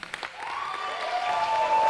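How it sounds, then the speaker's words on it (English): Applause at the close of a state poetry recitation final, a soft steady clatter of clapping from the audience with a sustained tone rising underneath it, building slightly toward the end. "Let's keep that applause going"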